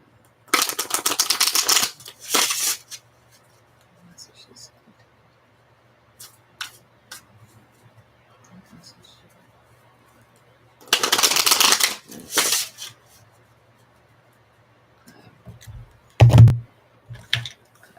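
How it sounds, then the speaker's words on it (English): Tarot cards are shuffled in several bursts of rapid riffling and flicking, separated by quiet pauses and a few soft taps, close to the listener. "Thank you for bearing with me here while I do my extra long shuffling."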